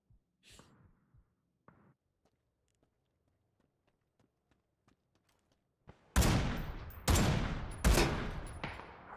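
Gunfire in the PUBG battle royale game during a third-person scrims match: after quiet footsteps and faint movement, three loud, sharp shots ring out near the end, each followed by a short rolling echo.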